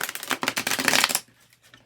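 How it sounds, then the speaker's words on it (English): Golden Tarot card deck being shuffled, a loud, fast riffling burst of stiff cards lasting about a second before stopping, close up with no talking. "This deck seems to be a very loud deck when shuffling it."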